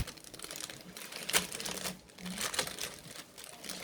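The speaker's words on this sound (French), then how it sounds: "Je vais le déballer, vous verrez mieux." Plastic packaging around two rolls of washi tape is crinkled and pulled open by hand, with short bursts of rustling and crackling that rise and fall across a few seconds.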